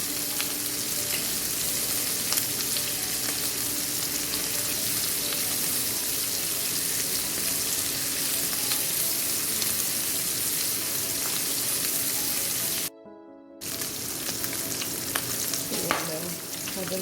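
Cabbage pieces sizzle loudly and steadily in a hot skillet, with scraping and stirring noises as they are flipped to brown on both sides; a brief dropout near the end interrupts the continuous frying hiss.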